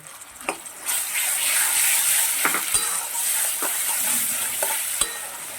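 Ground bean paste with black cumin, garlic and green chili fries in a pan, a steady sizzle running throughout while a spoon stirs and scrapes with several distinct taps against the pan.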